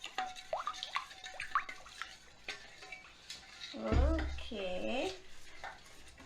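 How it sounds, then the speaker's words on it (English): Chicken noodle casserole ingredients and spices being stirred together in a dish, soft scraping and clinking of a utensil with wet squelches, one louder churning burst near the middle, a voice speaking briefly. "So let's mix it."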